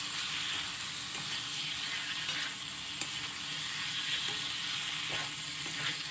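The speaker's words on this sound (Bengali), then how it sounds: "চানাটা ঢেলে দিলে।" Boiled chickpeas tipped into hot oil that has been cooked down with spices, giving a steady, dense sizzle and frying hiss with soft stirring scrapes throughout and no voices.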